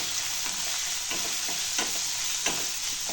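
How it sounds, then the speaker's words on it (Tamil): Onions sautéing and being stirred in a pan for beetroot masala rice, a steady close sizzle with scraping stir strokes at irregular intervals, no voices. "இப்போ வெங்காயத்தை நம்ம ஆட் பண்ணிக்கலாம் நல்லா வதக்கிடலாம்"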